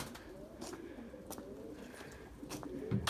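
Soft pigeon cooing rises and falls over an outdoor background, with a few faint clicks and rustles; moderately distant and fairly quiet.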